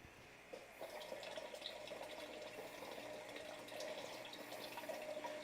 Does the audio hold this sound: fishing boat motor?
no